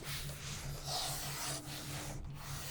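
A leather strap is drawn steadily through a strap cutter, its edge kept pressed against the tool's barrel, giving a soft, close, continuous rubbing scrape with a faint low hum underneath.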